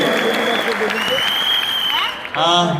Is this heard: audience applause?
yes